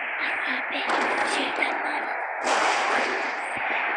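Crackling explosions in a natural disaster survival video game, a dense continuous rumbling crackle that is loud and unbroken across the whole stretch, with no clear speech.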